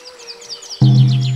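Repeated high chirping birdsong, clear and fairly close, joined after a moment by a loud sustained low tonal drone that holds underneath.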